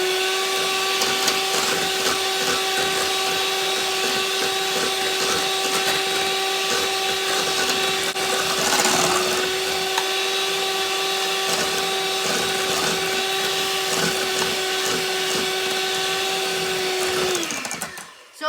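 An electric mixer beats sugar into tiramisu cream with a steady, loud whine that holds unbroken for about seventeen seconds, then winds down and stops.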